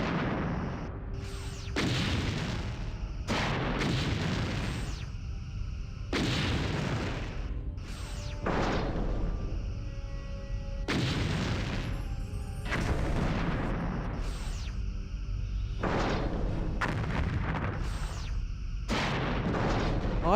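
Torpedo fire and impacts in the space combat game Star Trek Bridge Commander: a rapid series of loud, booming explosive bursts, roughly a dozen in close succession over a low rumbling background.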